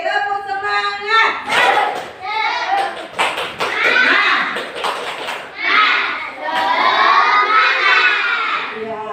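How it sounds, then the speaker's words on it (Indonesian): Children in a classroom clap a rhythmic spirit cheer together, bursts of clapping mixed with loud shouting voices, filling the room in energetic waves. "Sekali lagi, tepuk semangat."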